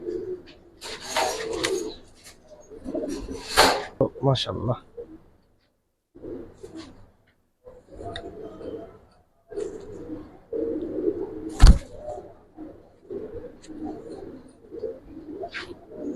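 Giribaz pigeons coo softly in the background while someone talks over them, with a sharp click partway through.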